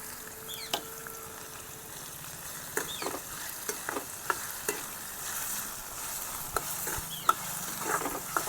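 Ridge gourd and chili-ginger paste frying in a pan for a Gujarati village-style dish: a soft, continuous sizzle broken by irregular scrapes and clicks of stirring, close and fairly quiet.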